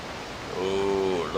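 Ocean parting in the video game Okami, a soft noisy wash that swells into a rising magical shimmering tone with layered chime-like harmonics, moderately loud and without speech.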